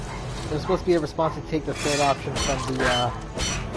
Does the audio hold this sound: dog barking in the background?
yes